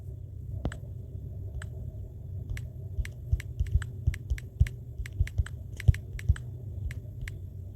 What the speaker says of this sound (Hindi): मैं आपके सामने प्रॉम्प्ट जो टाइप कर रहा हूँ